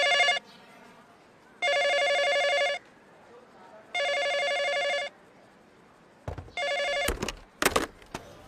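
A telephone rings in three long electronic bursts separated by pauses, then a shorter ring is cut off by clattering handling noises.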